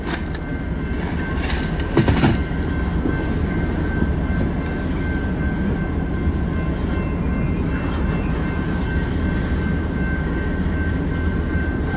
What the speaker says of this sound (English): there's a train behind this train coming east